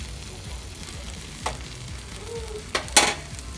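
Tortillas fry in red salsa in a hot pan, giving a steady low sizzle and a few sharp louder bursts toward the end.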